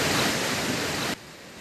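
Strong current of floodwater rushing through a flooded subdivision street in Barangay Bago Gallera, a loud, steady roar of churning water that suddenly drops to a quieter wash near the end.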